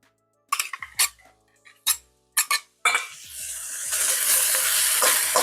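A utensil scrapes and clinks against the bottom of a skillet to loosen starch stuck under pork strips and celery, several sharp separate scrapes first, then a rising sizzle of frying as the stirring continues.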